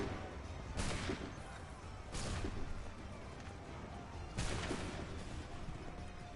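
Musket volleys in the Assassin's Creed III video game: three broad, noisy bursts about 1.5 seconds apart, each fading back into a rumbling battlefield bed, fairly distant and subdued.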